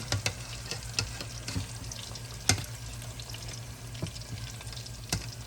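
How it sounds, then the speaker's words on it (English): Golden brown home fries frying in a pan, giving a steady low sizzle with scattered sharp clicks and pops at irregular intervals, close and fairly quiet, with no talking. "it's time to get these golden brown home fries out the pan"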